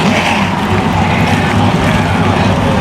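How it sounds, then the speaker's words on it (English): Stock car engines roaring together at Martinsville Speedway in a NASCAR racing video game, a dense, steady, loud mechanical drone with no letup. "Gentlemen, start your engines!"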